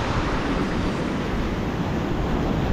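Ocean waves at high tide washing onto the beach at Candeias, Jaboatão, near Recife, a dense, continuous roar of surf with wind noise and no talk.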